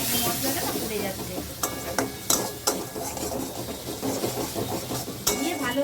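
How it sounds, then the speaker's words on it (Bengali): Spices with Kashmiri chili powder frying and being stirred in a pan, a steady sizzle broken by scraping and clinking of a utensil against the pot, under a little talk. "ভালো করে মশলাটা দিয়ে আমি কষবো"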